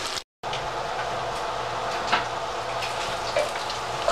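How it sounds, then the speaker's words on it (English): Steady crackling sizzle of bacon frying in a skillet, a constant hiss with small pops, close by, briefly cut to silence near the start. "while your bacon is still sizzling in the skillet"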